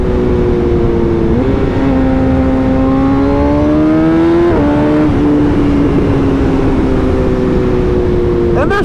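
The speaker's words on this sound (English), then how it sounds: "But the sound of this CT megaphone exhaust," A 2013 BMW HP4 motorcycle fitted with a CT megaphone exhaust revs loudly and close by, its pitch climbing, dipping and surging through several throttle blips in a raspy, sustained wail.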